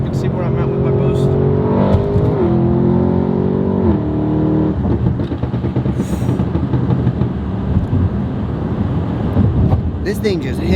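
An 1100-horsepower Audi RS6 Avant wagon accelerates hard under boost, its loud engine note climbing steadily and dropping briefly at gear changes, with a constant roar of road and wind noise throughout.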